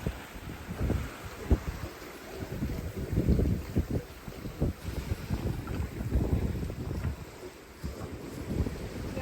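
Squall wind buffets a sailboat offshore, gusty roaring rumble with flapping and knocking bursts, close and fairly loud, no talk.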